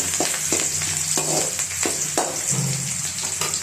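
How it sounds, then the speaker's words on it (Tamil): Onions sauté in a pan for village-style buttermilk rasam, a constant close sizzle with regular scraping stirs every half second or so. "வெங்காயம் நல்லா வதங்கணும்."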